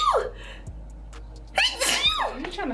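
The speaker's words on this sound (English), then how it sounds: "You trying to sneeze cute?" A woman sneezes close by in a high, squeaky voice. A short gasp comes first, then a sharp sneeze burst with a rising and falling vocal squeal, loud and near in a quiet room.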